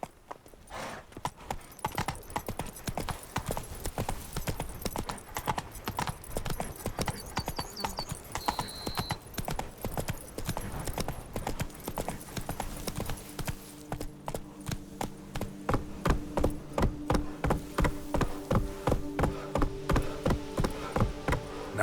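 Roach the horse gallops in The Witcher 3, with a long run of quick rhythmic hoofbeats, close and steady, growing heavier toward the end over faint game ambience.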